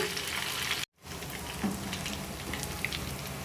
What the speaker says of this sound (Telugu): చక్కగా గోల్డెన్ కలర్ వచ్చేదాకా ఫ్రై చేసుకోవాలి.